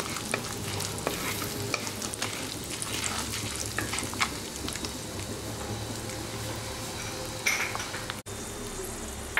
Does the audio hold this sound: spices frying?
yes